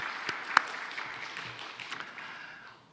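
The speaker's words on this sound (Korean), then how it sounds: "우리 하나님께 감사와 영광의 박수 올려드리겠습니다" A church congregation claps steadily during a Sunday service, the applause gradually thinning and fading away.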